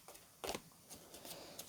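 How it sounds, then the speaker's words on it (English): A small stack of tarot cards being shuffled by hand, giving a few soft, quiet riffling bursts with brief gaps between them, close up and without talk. "They're so much more difficult to shuffle when there's only a few of them."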